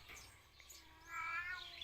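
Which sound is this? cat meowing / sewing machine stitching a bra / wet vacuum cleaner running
cat meowing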